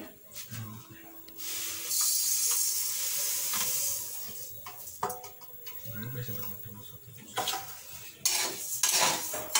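Rice grains dropped into a pan and stirred as they dry-roast over low heat to make chakli flour, with intermittent scraping and clinking of a spoon against metal and someone talking in between.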